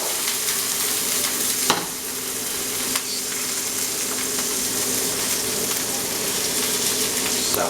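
Green peppers sizzle in a hot pan with occasional stirring scrapes, a steady broadband frying hiss throughout with a couple of sharper clatters, close and moderately loud, no voices.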